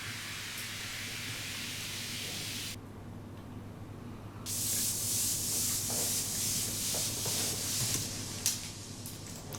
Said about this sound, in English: I like the sweeps down to have a lot more high frequency energy and the sweep up to be a little bit darker